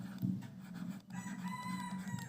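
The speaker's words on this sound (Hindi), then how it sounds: "देखिए मुर्गा भी बोल रहा है, घर के तरफ है" A rooster near a house crows in one drawn-out call, fairly faint and a little distant, over a low steady hum with no speech.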